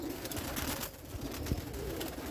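Teddy breed pigeons cooing softly in a loft, low rolling coos repeating over a quiet background with no talk.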